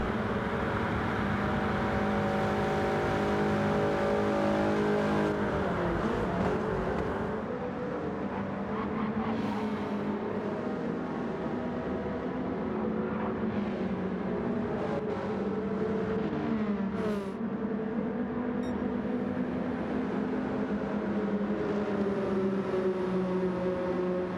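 Gr.4 race cars lapping Daytona in a racing video game, a dense, loud drone of several engines at high revs with pitch sweeps as cars shift and jostle, continuous without talk.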